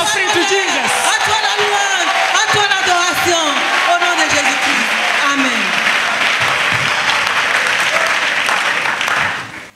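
A church congregation applauds and cheers in acclamation of Jesus Christ during a service on baptism. Loud, sustained clapping is joined by whoops and shouted voices, then cuts off abruptly at the end.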